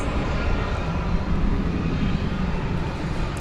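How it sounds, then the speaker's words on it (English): A Frontier Airlines Airbus A320 at Dallas Fort Worth Airport at night, bound for San Francisco, giving a loud, continuous low jet engine rumble and roar with no pauses. "there is a Frontier aircraft. It's an Airbus A320, flight 1835"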